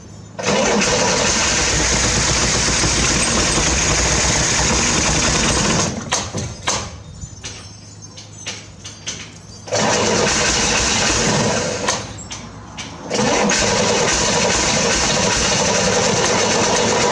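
A 1968 Chevrolet Corvair engine cranks and fires into loud rough running, stumbles with sputtering bursts in the middle, then catches again and runs steadily to the end.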